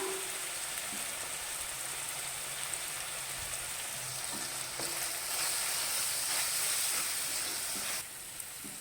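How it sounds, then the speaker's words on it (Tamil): Steady frying sizzle of tomatoes sautéing in a pan, a continuous crackling hiss with occasional soft stirring clinks, close and fairly even throughout. "இப்போ தக்காளி நல்லா வதங்கிருச்சு."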